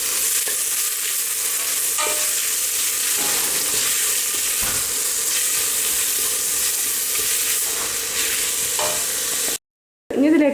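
Onions sautéing with salt in a pan for mutton mandi, a steady close sizzle with occasional spatula scrapes and stirring clinks, cutting out briefly near the end before resuming.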